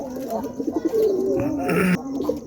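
Pigeons coo nearby in a short burst of low, rolling, throaty calls repeating in an uneven rhythm, with faint background noise between them.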